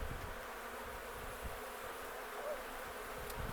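A soft, continuous buzz of many honey bees around a hive hovers in the background, a faint steady hum with no one talking.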